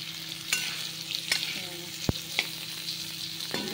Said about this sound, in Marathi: चांगला असा भाजून घेऊया।